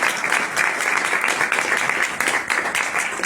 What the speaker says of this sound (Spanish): Y para ella sí que hay que dar un aplauso.